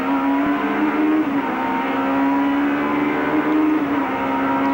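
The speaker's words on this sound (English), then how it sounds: "Down through the gears. Slams it down." A touring car at the 1992 Australian Touring Car Championship at Eastern Creek roars steadily as it drops down through the gears, the engine note dipping and rising at each downshift, loud and continuous with no talk over it.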